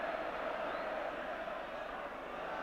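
Coventry fans at a 1986-87 football match against Sheffield Wednesday fill the ground with a continuous, distant crowd roar, steady and broad, with a commentator talking over it.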